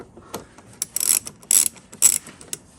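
Ratchet clicking as Torx T20 screws come out of the rocker panel molding on a Mercedes R170, soft rapid pawl ticks in several short bursts, close and quiet with no talking.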